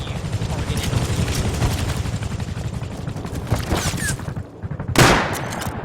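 Rapid bursts of gunfire in the survival game Rust, dense and loud across most of the stretch, ending with a heavier blast near the close.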